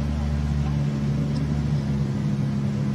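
Hyundai i20 R5 rally car idling at a rally start podium, a steady low engine drone with constant hum throughout.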